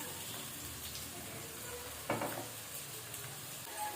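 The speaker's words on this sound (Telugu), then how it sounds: "ఆయిల్ అయితే హీట్ అయిందండి. కట్ చేసి పెట్టుకున్న ఉల్లిపాయ ముక్కలు, అలాగే పచ్చిమిర్చి కూడా వేస్తాను" Chopped onions and green chilies fry in hot oil, giving a steady, fairly faint sizzle with a sharp crackle and stirring scrape partway through.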